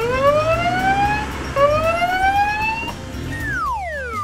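A toy ambulance siren wails in rising sweeps, repeating twice, then drops into a falling tone, loud and close against a steady background hum.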